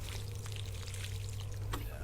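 A steady, soft pour of water soaks a very dry hanging basket, a quiet continuous trickle over a low background hum.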